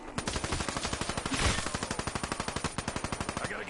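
Rapid automatic gunfire from a weapon in a zombies video game, a steady rattling stream of evenly spaced shots, loud and close, running the whole stretch with no talking.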